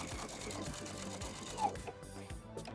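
Sewing machine stitching under a multi-function foot control, including backstitching, with quiet rhythmic mechanical ticking and whirring at close range and a few short pauses and clicks.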